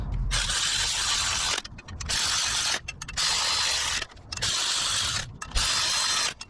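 A hand ratchet snugging up wheel bearing bolts on a Ford Transit front hub, five bursts of rapid close clicking separated by short pauses as the handle swings back.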